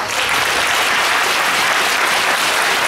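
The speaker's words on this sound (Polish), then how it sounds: "to brawa specjalne" Steady, dense applause from a large crowd at a Civic Platform (PO) election convention in Kraków, loud and sustained throughout, with no break.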